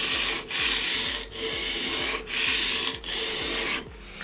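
Steel chisel rubbed back and forth across a sharpening stone in slow, steady strokes, a continuous close gritty rasp broken by brief pauses at each change of direction, heard alone.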